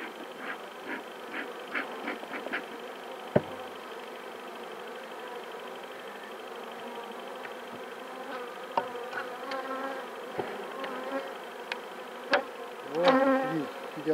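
Honey bees buzzing around hives at an apiary, a steady, fairly quiet drone with individual bees flying close by now and then and a few soft clicks and knocks of hive work.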